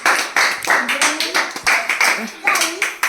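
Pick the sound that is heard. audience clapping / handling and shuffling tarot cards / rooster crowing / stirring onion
audience clapping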